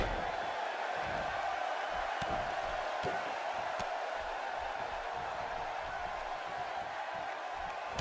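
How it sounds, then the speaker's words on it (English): A large arena crowd in a WWE 2K18 wrestling video game roars steadily in the distance, a broad continuous wash of cheering without clear individual voices. "Sounds to me like this Saginaw crowd is fired up for this one."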